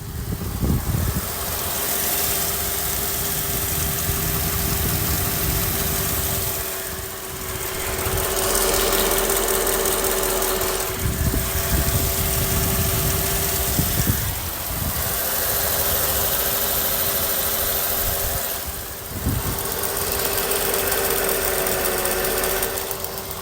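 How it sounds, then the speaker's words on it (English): A 5-liter V8 engine of a 2003 Mercedes-Benz SL 500 Roadster idles close by with a steady low rumble and hum, the level dipping slightly at a few points. "I cruise in on close to get a sound of the engine running"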